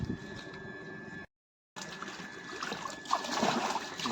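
A cooking pot is rinsed in water, with trickling, sloshing splashes close by, a brief total dropout partway through, then louder running and splashing water.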